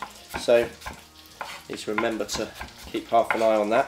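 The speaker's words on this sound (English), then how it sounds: "You can hear the pancetta starting to fry there in the background" Pancetta frying in a pan, a soft sizzle running quietly in the background beneath someone talking in the foreground.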